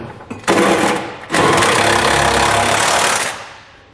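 A power tool drives a 3/4 inch socket to tighten bolts through the frame brackets of a 2019 Ford F-350 Super Duty during a fifth wheel underbed kit install. It sounds as two close, loud, buzzing bursts, the second one longer.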